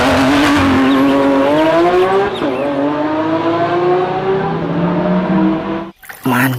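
A toy race car's racing engine sound, a loud revving whine that climbs steadily in pitch for about six seconds, then cuts off abruptly with a brief burst of noise at the end.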